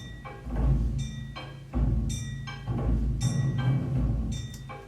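Orchestral percussion in a menacing film score for wormlions pounds in heavy, regularly spaced booming hits, each followed by brighter crashing strikes, loud and repeating in a steady rhythm with no voices.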